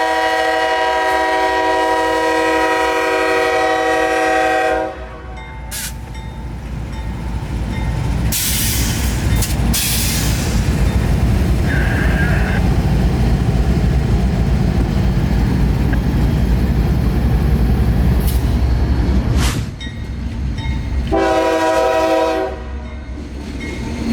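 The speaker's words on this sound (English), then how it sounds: "the train notches out of town" A freight train pulls out of Tampa Bay rail territory near the Big Manatee drawbridge, its engine rumbling steadily throughout with loud horn blasts near the start and again near the end, plus brief hissing bursts in between.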